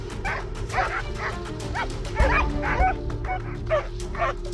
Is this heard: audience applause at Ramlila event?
no